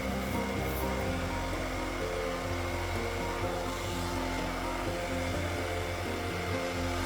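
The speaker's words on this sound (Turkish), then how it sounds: "Ben bunu fön makinesiyle birazcık açmak istiyorum, derinleştirmek istiyorum." A hair dryer blows steadily onto epoxy resin poured over a broken glass bottle tabletop, a continuous close whooshing roar with a low motor hum that holds constant throughout without talk.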